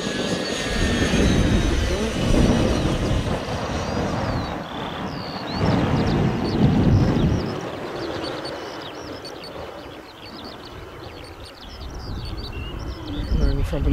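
Model Fouga Magister jet flying past at about half throttle, a steady loud turbine roar that swells and fades over the whole stretch, with people talking faintly underneath.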